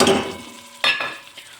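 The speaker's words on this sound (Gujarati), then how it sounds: "હવે ડુંગળીને હું ગોલ્ડન બ્રાઉન સુધી એને કૂક કરી લઈશ." Sliced onions fry in a pan, with a stirring and sizzling burst midway followed by quieter frying and a few scraping clinks of a utensil against the pan, close and moderately loud.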